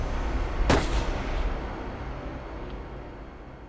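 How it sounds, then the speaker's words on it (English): A single rifle shot at a black bear on an Alaskan shoreline cracks out sharply outdoors, then a long rumbling echo rolls away and fades over the following seconds. "You could hear the report of the round."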